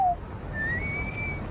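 A person whistles a short, clear note, followed by a longer rising and sustained whistled tone, close and alone against faint room noise.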